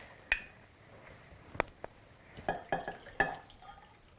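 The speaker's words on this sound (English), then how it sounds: "We're going to pour out 10 ounces of this." Honey drips slowly, about five soft, separate drops falling at uneven intervals in a quiet room.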